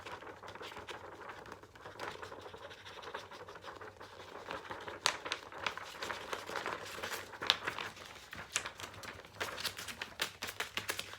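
Close, irregular scratchy snips and rustles of scissors cutting through paper, quiet and uneven, with sharper clicks in the second half.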